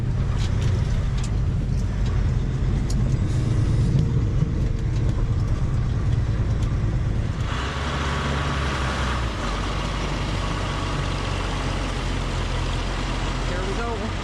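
Heavy loader engine idling and rumbling at a railroad ballast job, a steady low drone throughout that thickens after the midpoint as the machine revs up, with other vehicle noise mixed in.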